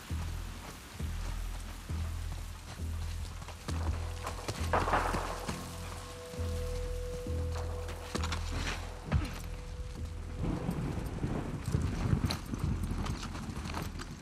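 Horse hooves clip-clop at a steady rhythmic pace in The Last of Us Part II video game, fairly close, with rain-like ambience and occasional thuds around them.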